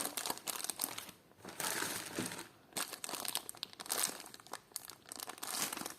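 Close-up crinkling of a small plastic packet of vintage jewelry being handled, in irregular bursts of rustling with brief pauses between.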